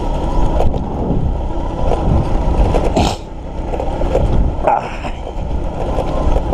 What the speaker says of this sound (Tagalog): takbo ng motor ko